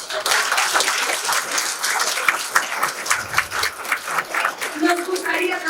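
Audience applause to open a logistics and transport awards event, dense sustained clapping from a large crowd filling the whole clip at close range.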